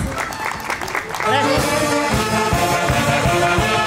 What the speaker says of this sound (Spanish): Fuerte las palmas, por favor, fuerte las palmas.